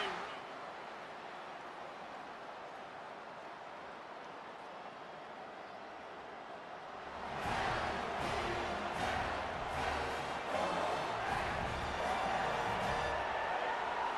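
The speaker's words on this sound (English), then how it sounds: "listen to this crowd just shaking the girders of this place" A college football video game stadium crowd swells from a quiet murmur into loud, sustained roaring and cheering midway through a third-down play, staying loud to the end.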